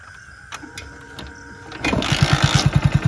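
Hero HF Deluxe BS6 motorcycle with a programmed fuel-injected engine kick-started, a few clicks giving way to a steady, quick, close putter as it settles into idle.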